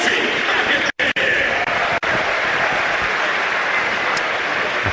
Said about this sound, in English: McAteer applauded on by Kipre amongst many others inside the ground